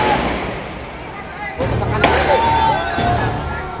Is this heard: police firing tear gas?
yes